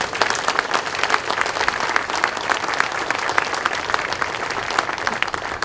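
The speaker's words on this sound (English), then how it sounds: "Please give them a great round of applause" An outdoor crowd at a Memorial Day ceremony in a veterans memorial park claps steadily, crisp individual hand claps standing out within a continuous, moderately loud round of applause that never pauses.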